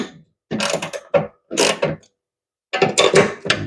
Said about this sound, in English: Taking our socket, I'm going to loosen the nut.